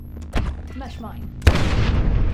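A mesh mine detonates in Black Ops 4 with a sudden loud boom that rolls into a sustained rumbling blast, following a brief stretch of game voice chatter and effects.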